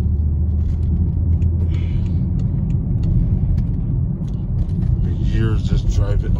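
A BMW M car driving through New York streets, a heavy low engine rumble and road noise filling the cabin, with someone talking over it and brief higher whines from surrounding traffic.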